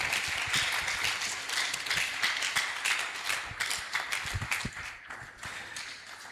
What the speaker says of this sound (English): as we appreciate with a round of applause our guest lecturer this afternoon, Professor Adewole,